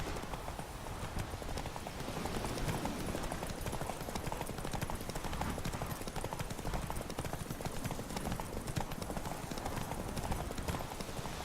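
The horse Roach gallops in The Witcher 3: Wild Hunt, a fast, dense, continuous patter of hooves at moderate distance under a wash of broadband noise, with no talking.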